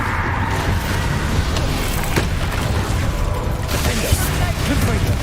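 Bombarda spell blasts in Hogwarts Legacy combat, dense rumbling explosions and crashes layered over continuous game noise, loud and close with a brief voice calling out the spell.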